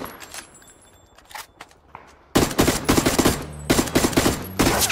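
Gunfire in PUBG: Battlegrounds, with a few scattered distant shots at first, then loud close bursts of rapid automatic fire in quick volleys, with brief pauses between them.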